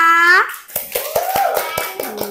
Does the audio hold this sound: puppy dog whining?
no